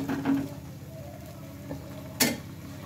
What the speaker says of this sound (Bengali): জলটা দিয়ে আবারও আমি ভালোভাবে সয়াবিনটা মিশিয়ে নিচ্ছি।